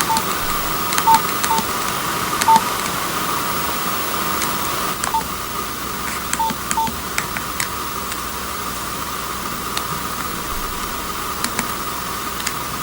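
Keypad tones from a Nokia 3210 mobile phone sound as a series of short, sharp beeps at irregular intervals, each one alone over a steady background hiss.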